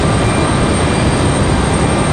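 A plane's engines roar steadily at RDU airport, Raleigh-Durham, as it takes off down the runway, a loud, dense, continuous rumble filling the whole stretch without letup.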